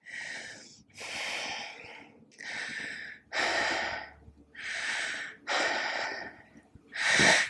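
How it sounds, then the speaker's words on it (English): Deep, audible breaths during a Pilates stretch in an advanced reformer workout: seven long inhales and exhales in a slow, even rhythm, close and clear with no talking. "Deep exhales here."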